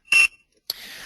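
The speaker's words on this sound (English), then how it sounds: "there's a pager feature where you can beep it" A HOBO MX1101 data logger gives a single short, clear electronic pager beep, loud and close. A burst of broadband noise follows after a brief pause.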